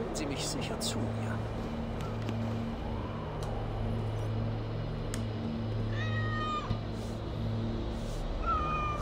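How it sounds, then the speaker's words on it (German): Cats meow in Assassin's Creed Valhalla, several short high mewls standing out over a steady low ambient drone of the game world, fairly faint and spaced out with soft clicks between. "Wenn das Freyas Katzen sind, führen sie mich sicher zu mir."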